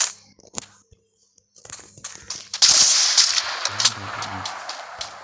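Gunfire in the video game Free Fire starts as a few isolated sharp shots after a near-silent stretch, then turns into a loud, sustained burst of rapid fire with clattering effects, close and without talk.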